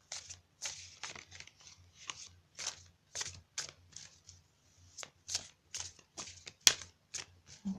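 Oracle cards are handled and drawn during a card reading, with a run of soft, quick shuffling and flicking rustles in irregular bursts, close and quiet.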